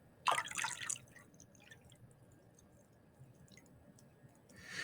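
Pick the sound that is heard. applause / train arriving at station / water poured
water poured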